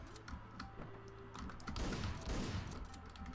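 Rapid bursts of video-game gunfire from Hotline Miami crackle in a dense, fairly quiet volley over a steady electronic music bed, with no voices.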